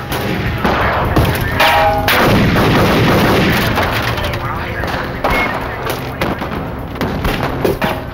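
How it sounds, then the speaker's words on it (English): Rapid gunfire at point-blank range during a staged reenactment of an FBI shootout, loud close bursts and heavy thuds repeating throughout with little pause. "Agent McNeil arrived seconds later, firing at point-blank range."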